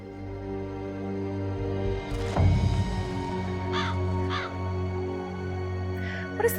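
A crow from the video game Dreamfall Chapters caws several times in harsh, rasping calls over a droning game soundscape, with a rustling thud before the calls.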